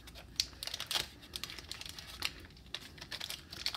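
Model Magic modeling clay package being split down the side and opened, giving soft crinkling and tearing rustles in a run of short, close bursts with no talking.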